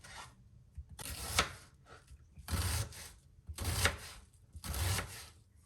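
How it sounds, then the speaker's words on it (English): A knife chops onion on a cutting board for Moroccan harira soup. It makes four distinct bursts of quick scraping, tapping cuts, with short quiet gaps between them. "First of all, let's cut onion."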